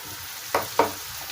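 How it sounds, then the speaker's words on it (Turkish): Tomato paste sautéing in a pan for a Black Sea döşeme cabbage dish, a low sizzle broken by two quick scraping stirs close up. "Kavuralım ki salça kokusu çıksın"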